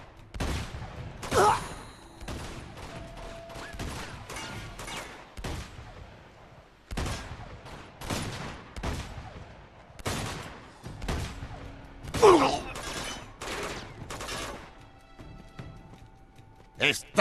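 Bursts of gunfire in Uncharted 2 at a monastery, sharp volleys and automatic fire recurring across the stretch, with shouting voices between them.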